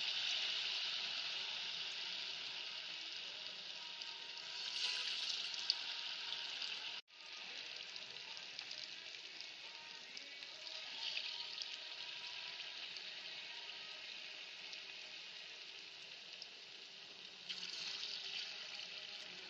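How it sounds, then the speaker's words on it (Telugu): Prasadam boorelu, sweet dumplings dipped in batter, frying in hot oil with a steady bright sizzle throughout, dipping briefly at one point before the crackle resumes, close and fairly loud with no talking. "మరిగిన ఈ నూనెలో ఈ ప్రసాదం ఉండలను చెవిలో ముంచి ఇలాగా బూరెల్లాగా వేసుకోవాలి."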